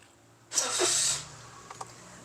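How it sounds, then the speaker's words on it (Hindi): A 1000cc third-generation Toyota Passo is started with its key: a brief, noisy starter crank lasting under a second, then the engine settles into a quiet idle with a couple of faint clicks. "गाड़ी को स्टार्ट कर लेते हैं।"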